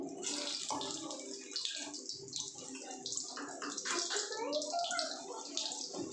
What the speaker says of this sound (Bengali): এবার আমি এই তেলের মধ্যে ছানাগুলোকে ভেজে নেব।